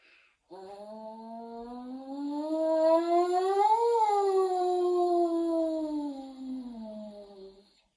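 A single voice imitates a siren, sliding smoothly from low up to a high peak and gliding back down in one long sustained tone.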